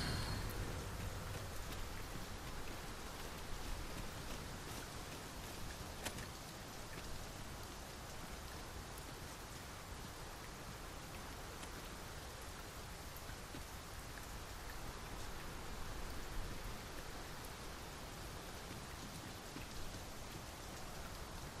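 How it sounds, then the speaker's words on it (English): Steady rain falling in the video game Dragon's Dogma 2 near a cave entrance, an even, hissing wash of drops that continues without a break, fairly soft and with no other sounds over it. "Mind the rain, Master."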